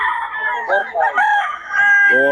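Gamecock roosters crow at a Bocaue market, several overlapping loud, near calls with clucking among them, and faint talk in the background.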